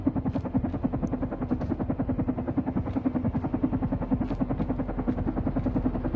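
A helicopter flies in the video game Carrion, its steady rhythmic rotor chop thumping loud and close, continuous throughout with no voices.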